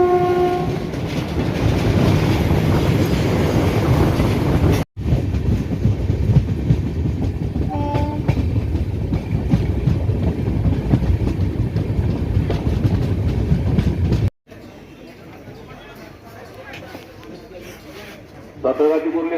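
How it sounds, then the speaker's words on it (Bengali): A train pulls out of a station on a rail trip toward Bishnupur and rolls along the rails with a loud, steady rumble. Brief horn tones sound over it, and it briefly cuts out twice. "আমাদের ট্রেন বেরিয়ে যাচ্ছে"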